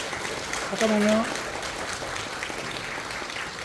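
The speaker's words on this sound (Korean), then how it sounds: "자, 박수 치는 거," Audience clapping at a presbytery ordination ceremony for pastors in a church, a steady patter of hands with a short spoken phrase over it.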